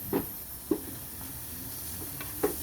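Garlic being added to onions in a frying pan, with a soft steady sizzle punctuated by a few brief clinks and scrapes of stirring, close and fairly quiet.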